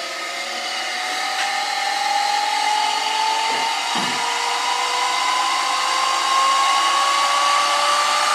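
An electric motor runs steadily under speed control, driving a reactive generator test rig, its whine rising slowly in pitch throughout with a couple of brief dips in load. It is loud and continuous, with no talk.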